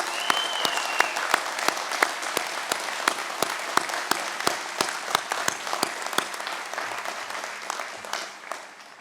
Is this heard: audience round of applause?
yes